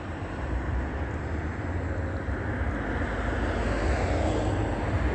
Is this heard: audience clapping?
no